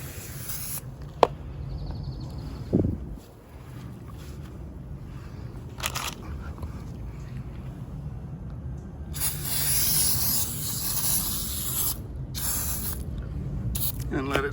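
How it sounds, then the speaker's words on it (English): Aerosol degreaser sprayed onto the ram of a Dillon RL550B reloading press, short hissing bursts with a longer spray near the end, among small handling clicks and clunks. "the ram we're gonna spray down with this super clean degreaser also."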